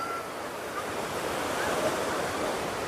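Handru Falls near Ranchi, Jharkhand, roars as a steady broadband rush of falling water with some wind buffeting the mic, continuous and without talk.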